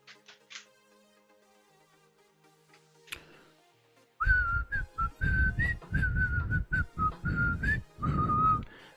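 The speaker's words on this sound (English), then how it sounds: "Been practicing my whistling so that the Discord can't tell me I can't whistle anymore." A person whistles a sustained melody up close, with short notes and brief pauses over a few seconds, following a quiet stretch with a sharp click.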